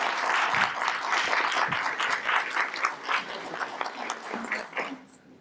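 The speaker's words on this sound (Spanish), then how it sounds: "¿Le damos un aplauso?" A university lecture audience breaks into sustained clapping to welcome a guest speaker; dense, fairly loud applause that gradually thins and fades out near the end.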